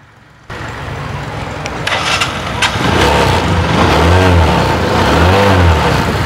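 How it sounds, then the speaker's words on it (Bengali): A Bajaj Discover 110 motorcycle engine starts up after a brief quiet moment, then idles and revs steadily, growing louder and rising and falling in pitch, close by and alone without talk. "আমরা বাইকটির সাউন্ড কন্ডিশনটাও আপনাদেরকে একটু শোনানোর চেষ্টা করতেছি"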